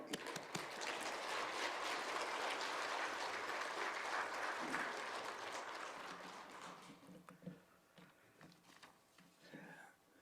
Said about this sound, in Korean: 목사님 잠깐 나오실 때 우리 뜨겁게 박수해 주시면 감사하겠습니다.